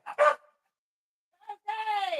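A dog barks twice, short and close, at the start, with a stretch of quiet after; a person then speaks nearby as the bark trails off.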